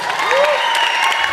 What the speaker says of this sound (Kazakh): танцевальный группа Fall and Angels бір шапалақтар болсын